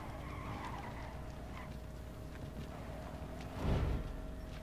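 Cars doing donuts in the H1Z1 battle royale game, with tires skidding in a steady, distant hiss that swells into a louder burst near the end.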